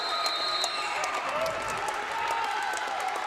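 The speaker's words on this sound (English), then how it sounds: "And that got the crowd into it as Coach Barry's going to take a timeout." Basketball crowd at a Gordon-Rushville Mustangs game against Chadron, cheering and applauding after the Mustangs take the lead, a loud continuous roar filling the gym from start to finish.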